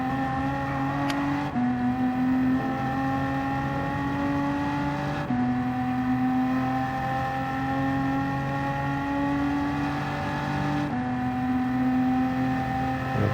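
BMW M4 Gr.4 race car in Gran Turismo 7 at Interlagos, engine held at high revs in a steady strained drone, with three brief gear-shift breaks before the pitch climbs again, loud and alone.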